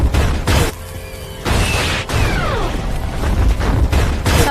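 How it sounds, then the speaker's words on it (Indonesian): A drum explodes loudly with heavy booms and crashing debris, followed by roaring, crackling turbulence as the blast rolls on and sets a house on fire. "lalu tiba-tiba drum meledak dan membakar rumah itu"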